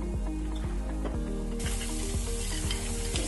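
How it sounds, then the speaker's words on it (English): A spoon stirs sugar into a whiskey sour in a glass, giving regular light ticks and clinks about twice a second over a constant hissing background. "I'm just gonna stir it."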